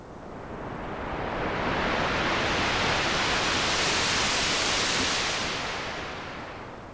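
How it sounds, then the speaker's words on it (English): Broad rushing noise from a Korg Minilogue synthesizer with delay at maximum feedback swells slowly and then recedes, like surf rolling in and washing back out, steady and smooth with no voices. "This is with the delay on, with maximum feedback."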